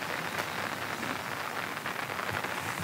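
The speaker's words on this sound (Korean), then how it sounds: "빗소리 대박이다." Steady heavy rainfall in Jeju, a dense, even hiss of drops on surfaces that fills the whole stretch with no voices over it.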